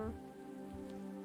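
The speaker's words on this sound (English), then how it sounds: "rain sounds and me talking" Steady rain ambience plays faintly and continuously in the background of a game stream, with a soft, even wash and a low tonal hum woven through it.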